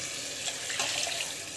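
A soft, steady trickle of water pouring into rice, quiet and close, with no voices.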